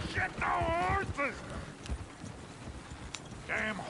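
Hooves clip-clop from horses in a video game, a steady run of soft thudding steps heard under intermittent voices, moderately close but fairly quiet.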